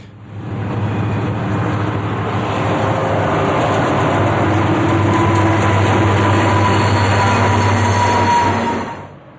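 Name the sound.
UP/BNSF EMD SD90MAC diesel locomotive train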